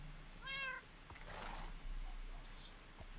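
A Minecraft cat gives a short mewing call, faint under background game ambience, with soft in-game clip-clops and light noises following.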